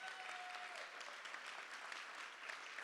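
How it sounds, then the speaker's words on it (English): Applause from the audience at the ICON SHOW 2025 fashion show, a dense steady patter of many hands clapping, faint and distant throughout. "So please, again, one more round of applause."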